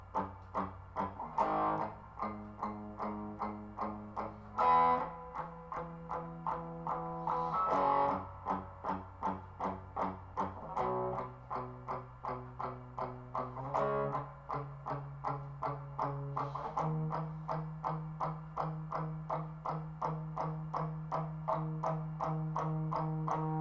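An electric guitar plays the chord riff from a song slowly, with distorted chords struck one after another in a steady, deliberate rhythm, each ringing briefly before the next, then a long held low note and repeated picked notes toward the end.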